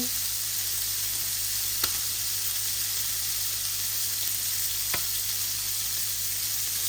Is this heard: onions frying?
yes